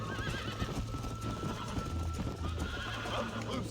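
Horse hooves clip-clopping at a steady trot in the video game Red Dead Redemption, with a horse whinnying, a continuous rhythmic beat under a faint game score.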